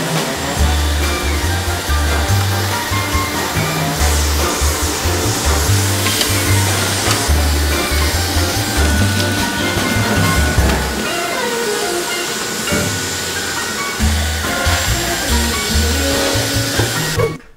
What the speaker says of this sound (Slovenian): Pri sesalniku je najboljše, da vzamemo nekaj za ščetko in kar akcija.